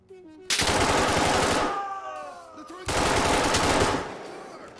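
Gunfire from an SR16 rifle in the tactical shooter Ready Or Not, two long, loud, rapid automatic bursts separated by a short pause, close and dense.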